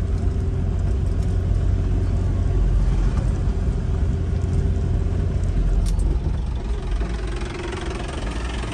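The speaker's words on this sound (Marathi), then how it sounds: "चला आपल्या पिंट्या शेटची पण गाडी आली." A car arriving on a road in the Konkan countryside, its engine running with a steady low rumble close by that eases slightly toward the end, with no talking.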